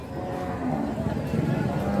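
A carabao water buffalo lows at a livestock market, a drawn-out, moderately close moo over a steady murmur of crowd chatter and background voices.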